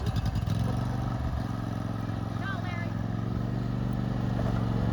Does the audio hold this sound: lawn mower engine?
yes